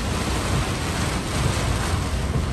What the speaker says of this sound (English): We got sideways rain. It's going across. It's not regular rain.